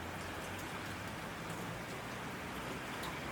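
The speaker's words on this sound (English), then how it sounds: "Outside, the gentle rain continues its timeless song." Gentle rain falls steadily outside a mountain cabin on an autumn night among pine trees, a soft continuous hiss and patter without breaks, even and moderately quiet.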